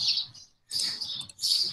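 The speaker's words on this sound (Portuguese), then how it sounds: "Os passarinhos estão com a molesta hoje, viu?" Small birds singing outdoors, bright chirping bursts repeating in quick phrases with a short pause between them, fairly close and clear with no voices over them.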